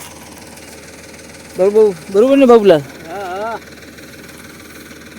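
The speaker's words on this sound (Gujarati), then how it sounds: "તો આ બાજુ ટ્રેક્ટરનું કામ ચાલુ છે." A tractor works in a farm field beside a mung bean crop, its engine a steady low hum running beneath a man's close, loud talk.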